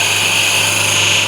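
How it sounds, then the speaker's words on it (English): A skew chisel cutting a chamfer on a wood lathe, turning very tough wood: a loud, steady, continuous whirring hiss from the spinning workpiece and blade contact, unbroken for its brief length. "with the skew, I'll just put a little chamfer here, maybe a little bit bigger one"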